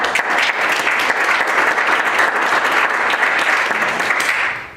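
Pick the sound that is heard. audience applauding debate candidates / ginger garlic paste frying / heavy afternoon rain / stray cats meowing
audience applauding debate candidates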